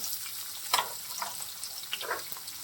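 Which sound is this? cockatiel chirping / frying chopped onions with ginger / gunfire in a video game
frying chopped onions with ginger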